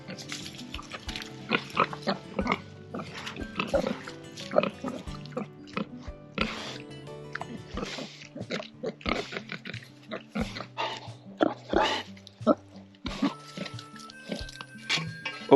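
Pigs in an outdoor pen fenced with poly wire grunt and oink busily and close by, a dense, continuous run of snorts and squeals with some wet, sloppy noises mixed in.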